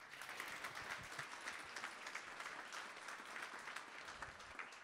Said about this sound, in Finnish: pienet aplodit hänelle